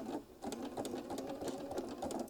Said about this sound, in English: Now I'm going to sew a couple stitches forward, a couple stitches back, get the right stitch length